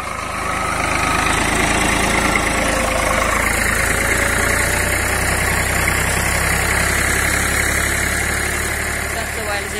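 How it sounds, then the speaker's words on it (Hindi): A Swaraj tractor engine runs steadily while pulling a cultivator, a continuous loud rumble with rattling vibration throughout and no pauses. "एकदम फ्री इंजन चल रहा है इसका"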